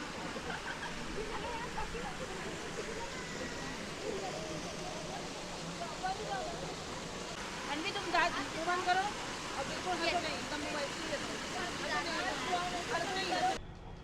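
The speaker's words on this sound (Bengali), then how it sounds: "এখানে একটা আর্টিফিশিয়াল ঝর্ণা রয়েছে তৈরি করা।" Artificial waterfall at a sightseeing spot in Mussoorie, a steady broadband rush of falling water running throughout, with a faint crowd murmur and some voices rising in the background.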